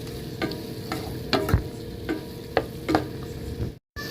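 Squid sautéed in a pan with a little salt sizzles steadily while a spoon scrapes and taps the pan in irregular strokes, close and fairly loud, ending with a brief silence.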